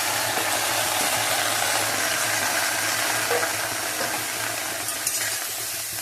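Taro stolons hit a hot pan with black cumin, giving a constant close sizzle and frying hiss that holds steady throughout.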